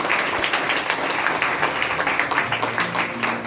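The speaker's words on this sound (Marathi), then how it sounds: "जोरदार टाळ्या वाजवा" A church congregation claps together during a Marathi sermon, a dense, continuous wash of applause that stays fairly loud from start to finish and carries no clear speech.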